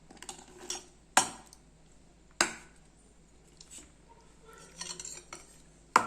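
A spoon stirs wheat rava batter mixed with onion, green chilli and curry leaves in a bowl. A few sharp metallic clinks stand out at spaced intervals over quiet scraping, close and fairly soft.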